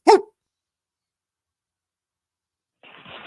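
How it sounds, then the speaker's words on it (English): A single sharp dog bark right at the start, then silence, with a faint rustling noise creeping in near the end. "There's the dog starts barking."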